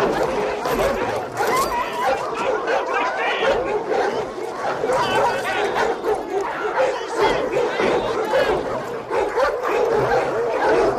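A team of sled dogs barks and yips in a loud, dense, continuous chorus, with whines mixed in and people talking underneath.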